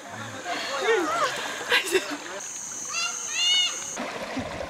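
Water splashes and sloshes as people wade across a river carrying heavy supplies. Children's and adults' voices sound over the running water.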